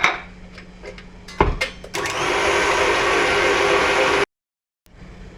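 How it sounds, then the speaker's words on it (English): An electric mixer beats egg yolks with sugar and lemon zest for a Sri Lankan love cake, a loud steady whirring drone after a few clinks, then it cuts off abruptly and briefly resumes. "Sugar and the lemon zest. I'm going to beat this now."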